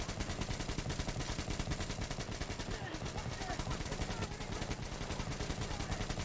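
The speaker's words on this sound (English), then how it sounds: "My gun must be dirty. And that's probably why it's shooting all inaccurate too." Sustained automatic fire from the player's weapon in the video game Metro Exodus, a dense rapid rhythm of loud shots continuing throughout without a break.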